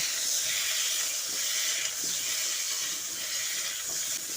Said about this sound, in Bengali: ঘিটা ভালোভাবে মেল্ট হয়ে এলে এবার নুন দিয়ে মেখে রাখা ফুলকপিগুলো এর মধ্যে দিয়ে দিচ্ছি